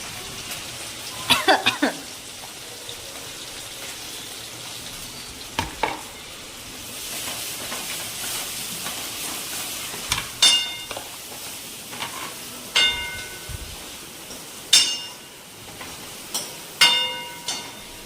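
Onions fry in a pan with ginger-garlic paste for ragda, sizzling softly underneath repeated loud scrapes and clinks of a spoon stirring against the metal at irregular intervals.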